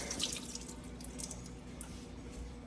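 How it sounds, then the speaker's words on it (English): Frozen meat rinsed under a running kitchen tap, a steady close stream of water splashing into a sink with faint drips, continuous for a few seconds. "Let me rinse it off."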